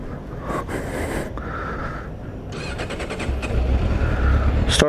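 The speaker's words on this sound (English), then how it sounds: "Let's do another cold start on this bike." A Harley-Davidson motorcycle engine cold-starts with its exhaust not yet warmed up: starter bursts and cranking, then the engine catching and idling as a steady rumble, fairly close.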